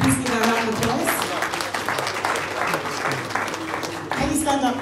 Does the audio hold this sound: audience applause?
yes